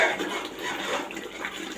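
Water poured into a cooking gravy in a pan, a continuous close splashing and trickling pour that fills the whole moment at a steady level, with no one talking.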